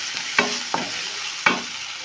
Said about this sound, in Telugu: వేసి బాగా కలపండి. ఈ ఆయిల్లో ఉడకనివ్వండి.